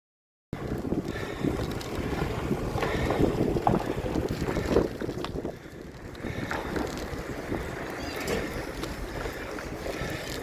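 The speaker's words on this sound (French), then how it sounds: "il y a beaucoup de vent qui souffle ce matin" Steady wind roars and buffets against a moving vehicle, a broad rushing noise that dips briefly midway and then continues.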